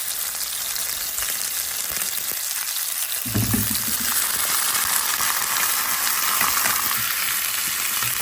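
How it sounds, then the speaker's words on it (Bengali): Red amaranth leaves fry in a pan with onion and garlic, giving a loud, steady sizzle and hiss throughout, with a burst of crackling as fresh leaves hit the hot oil partway through. "এখন আমি লাল শাকটা দিয়ে দেবো"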